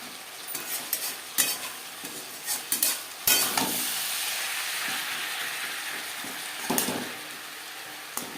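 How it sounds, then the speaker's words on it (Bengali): Pabda fish curry with green tomatoes stirred in a pan over a high to medium flame, with a continuous loud sizzle and bubbling under repeated clanks and scrapes of a utensil, no voices. "বেশ ভালো করে মিক্স করে দেবো প্রথম পাঁচ মিনিট রান্নাটা করব হাই টু মিডিয়াম ফ্লেমে"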